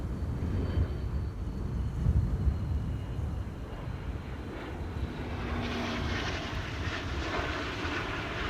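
Airliner on final approach to runway 27 at Amsterdam Schiphol, a steady low rumbling jet roar heard from a distance that builds slightly toward the end, with no talk over it.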